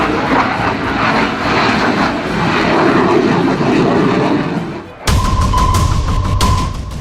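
A Tejas fighter jet roars past loud and near, a dense sustained engine rush that cuts off abruptly into a different, brighter segment with a steady tone.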